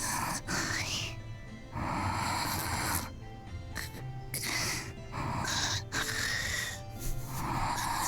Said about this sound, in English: Did this snoring need to be that loud in my ear cups?